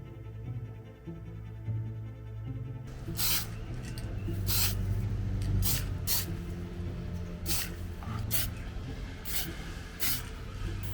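Close spray-can or airbrush bursts laying semi-gloss clear varnish over a 1/35 T-40 amphibious scout tank model: after a quiet start, about six sharp hissing sprays sound at roughly even intervals over a steady low background hum.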